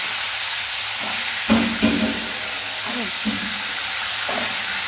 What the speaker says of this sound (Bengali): কড়াইতে চার চামচ তেল দিয়েছি তেলটি গরম হয়ে গেছে এখন এর মধ্যে মাছের মাথাগুলো একটা একটা করে ছেড়ে দেবো